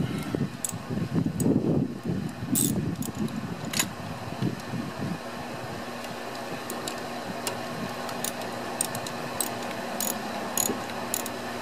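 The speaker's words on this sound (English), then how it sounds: "we're going to take a 12mm socket" A 12mm socket ratchet snugs coil pack bolts on a 2010 Hyundai Elantra, giving soft close mechanical clicking and rattling, busier in the first few seconds and then quieter, with faint sharp ticks scattered throughout.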